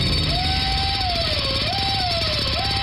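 A high whining dentist's drill tone that rises and dips in pitch, steady and close, over a low mechanical hum.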